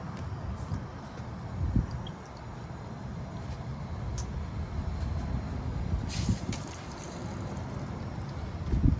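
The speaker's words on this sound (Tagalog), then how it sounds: "Naghihimagsik ang hangin." Gusting wind roars steadily across the microphone, a low rumbling rush with a few brief knocks and rustles, no voices.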